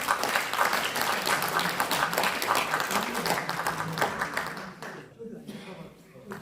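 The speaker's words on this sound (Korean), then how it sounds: "큰 박수 부탁드리겠습니다" Dense, sustained applause from a large crowd in a city hall auditorium at an award ceremony, steady and loud before thinning out toward the end.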